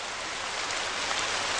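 Steady rain falls during a night scene in a Telugu film, a dense, even hiss that continues without a break and with no speech.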